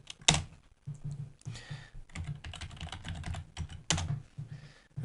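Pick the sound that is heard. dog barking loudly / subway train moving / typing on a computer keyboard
typing on a computer keyboard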